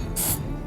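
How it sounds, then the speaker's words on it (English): A single short hiss from a can of hairspray sprayed over coarse salt, close and crisp, lasting under a quarter second in a quiet room. "So you can just grab this hairspray and"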